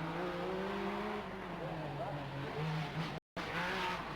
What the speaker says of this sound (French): écoutez le bruit d'une Porsche dans la montagne corse